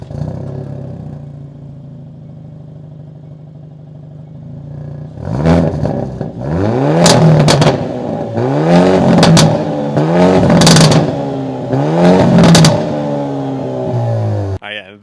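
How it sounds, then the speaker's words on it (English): A Hyundai Elantra N's engine fires up close by with a low idle, then comes a series of loud throttle blips, each rising sharply in pitch and falling back, with crackles between revs. "We'll start this up right now because this thing objectively sounds so much nicer than the Volkswagen Golf GTI."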